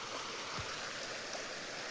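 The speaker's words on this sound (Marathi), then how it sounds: "मिनी धबधबा." A small waterfall spills into a flowing stream, a dense, steady rush of water with no breaks, close by and fairly loud throughout.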